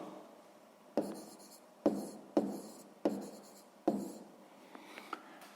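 A pen writes out a 6th-grade maths exercise on paper, close up in quiet, with five or six firm strokes or taps at regular intervals between soft scratching and no talking.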